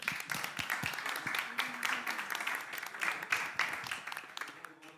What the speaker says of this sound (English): Give a round of applause for Jaime.